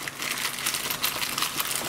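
A small plastic bag of welding contact tips for a semi-automatic welder handled up close: continuous crisp crinkling and rustling of thin plastic, fairly loud and steady throughout, with no speech.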